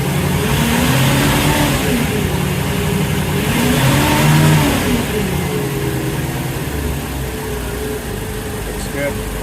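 The port engine of a 2003 Sea Ray 320 Sundancer, newly replaced in 2019, rises from idle into a steady rev. It holds a loud, close, even drone before easing back slightly, with faint voices in the background.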